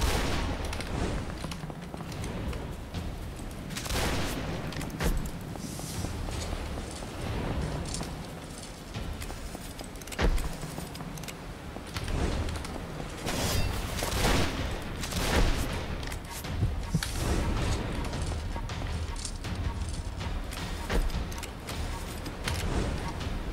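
Dense gunfire from a gun in the video game Arcane Odyssey, bursts of shots crackling continuously over a busy, loud battle mix for the whole stretch, with some voice underneath.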